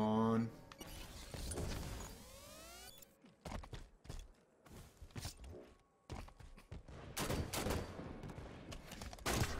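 Video game gunfire and action sounds from a one-on-one Halo 5: Guardians match, sharp shots and bursts separated by short gaps, with whooshing effects and some background player chatter.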